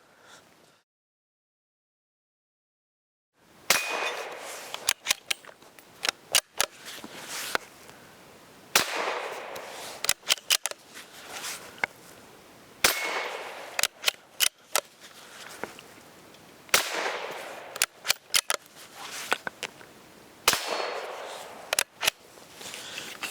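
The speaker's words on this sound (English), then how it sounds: "So let's go around and shoot some of the other stuff." Savage 93 .22 WMR rifle firing at an outdoor range, a string of sharp, loud shots at irregular intervals after a short silence, some followed by faint metallic rattles and plate hits, with no talk.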